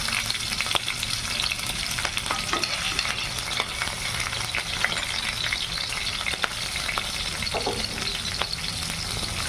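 Green chillies and potatoes frying in hot oil, a steady dense sizzle with constant crackling and scattered sharper pops throughout, close and loud, with no voices.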